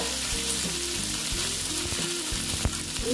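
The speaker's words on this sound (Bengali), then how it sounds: "আর এটাকে আমি ভালো মতন ভেজে নিচ্ছি।" Potato pieces, some halved and small ones whole, frying in hot oil for Bengali aloo dum, a steady loud close sizzle with occasional stirring clinks, no voices.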